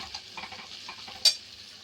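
Ingredients for tomato rice fry in a pan as they are stirred, giving a soft, steady sizzle with light scraping and one brief sharper clink near the end.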